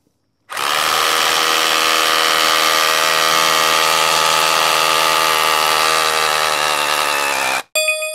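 A hammer drill fitted with a widia masonry bit bores into concrete, a loud, continuous whining roar that starts abruptly, holds steady for about seven seconds, then cuts off, heard up close with no voices.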